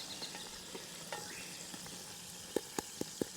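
Roast pork crackling in a cast-iron camp oven over a campfire, a faint steady sizzle and frying crackle running throughout, with four sharper pops near the end.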